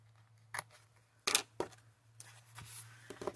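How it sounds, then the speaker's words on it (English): Scissors snip through a strip of patterned peacock craft paper on a journal page, a few sharp, faint cuts and crisp paper rustles close by against a low steady hum. "And then with my scissors, I'm going to cut off the remainder of this."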